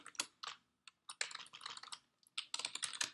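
Quick, irregular keystrokes on a computer keyboard while writing a MySQL query in a database client, clicking in uneven bursts separated by brief pauses, close and clear with no talking.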